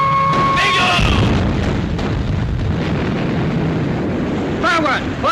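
Naval gunfire and explosions aboard a British destroyer in a 1942 wartime film, a loud dense roar of booms and blasts with tonal whistles and shouts mixed in, sustained throughout.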